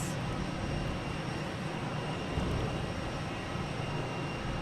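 Airliner jet engines roar at Boston Logan Airport, a steady, broad, moderately distant rumble that holds evenly for a few seconds.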